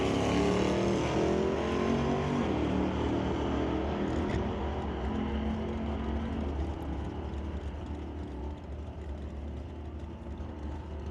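Drag race cars launching and running down the strip at an NHRA Northwest National Open Series test and tune, a loud engine roar that starts strong and slowly fades as the cars pull away.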